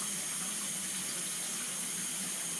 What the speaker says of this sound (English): you can wet like the cup around with hot water